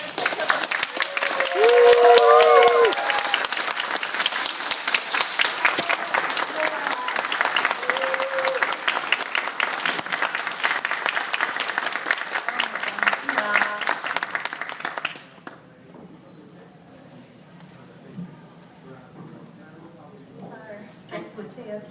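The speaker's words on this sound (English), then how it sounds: "give a round of applause." Audience applause and cheering fill a convention panel hall for about fifteen seconds, loud and dense with voices mixed in, then drop away to quieter murmuring and speech.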